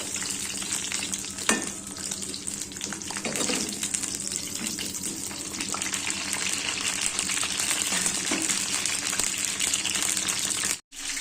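Stuffed jumbo brinjal bajji fry in hot oil, giving a continuous loud bubbling sizzle that holds steady throughout, with a few soft clinks mixed in.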